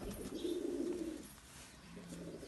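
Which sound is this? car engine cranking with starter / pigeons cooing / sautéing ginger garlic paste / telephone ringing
pigeons cooing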